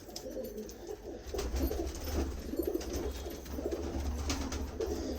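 Pigeons coo in repeated low, throaty calls over a few seconds, moderately quiet and close, with soft background rustle and no talking.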